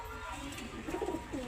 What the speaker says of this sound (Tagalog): Barako, mukhang malaki. Yun, ang ganda ng mata.